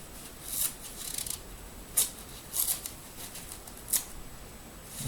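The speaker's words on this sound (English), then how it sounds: "I'm going to cut the edges down because I don't really want sharp edges." Scissors snip through the edges of a wargaming base for a lunar battlefield, several short crisp cuts spaced irregularly, close and fairly quiet against a faint room background.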